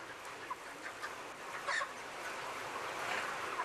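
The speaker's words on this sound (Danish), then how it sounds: "Altså opdrættes der her 4 millioner kyllinger samtidig." Chickens cluck faintly in a large indoor poultry farm that holds thousands of birds, with scattered clucks over a steady, dense background hum of the flock.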